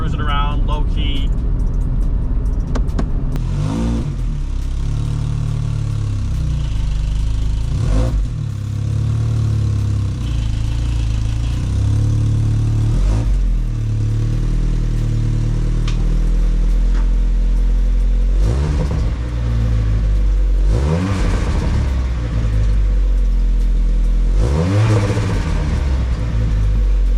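A Mk2 Jetta with an aftermarket muffler cruises steadily, its low engine and exhaust drone continuous throughout, with a few gear-change swells and people talking over it.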